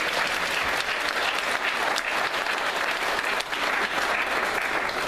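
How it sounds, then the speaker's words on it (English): Steady, dense audience applause at a fitness challenge event fills the whole stretch, loud and close, with no one talking over it. "can we get a round of applause for Dr. Mike?"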